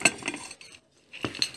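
Old ceramic plates, some chipped and apparently East German-made, clink sharply as they are handled, a few close, brief clattering contacts separated by a short silent gap.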